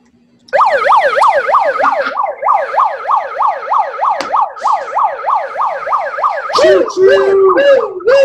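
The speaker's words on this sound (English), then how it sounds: "Get your siren out." Loud wailing siren cycling rapidly up and down in a steady yelp, continuous for several seconds, then shifting to a different warbling pattern near the end.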